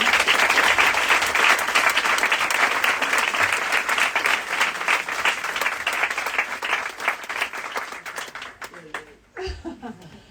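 An audience at a poetry event in a bookstore gives a long, dense round of applause that slowly thins out, and a speaking voice follows at the very end.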